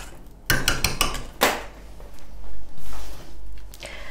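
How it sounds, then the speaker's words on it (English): A spoon clinks and scrapes against a pot of hot vegan hair treatment mixture just lifted off the heat. A few sharp metallic knocks come first, followed by softer swirling strokes, close and fairly loud. "we're just going to remove that one from the heat, and we're just going to give that a stir to help it start cooling"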